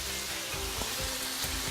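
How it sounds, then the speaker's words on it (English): Prawns and shallots stir-frying in a pan give a steady, close sizzle and crackle with faint stirring, and no voices are heard. "So we're just going to keep stir frying these prawns until they're cooked right through."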